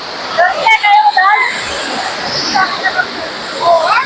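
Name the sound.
waterfall at Cat Cat village, Sapa, Vietnam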